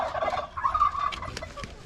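Turkeys gobble in short, warbling bursts, fairly close and moderately loud, with a few quick calls overlapping.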